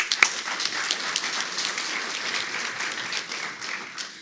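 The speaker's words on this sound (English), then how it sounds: "they deserve a big clap" A dinner audience at a boxing-related speech event bursts into applause, a dense, even wash of many clapping hands with a few sharp claps near the start, sustained throughout at a moderate distance.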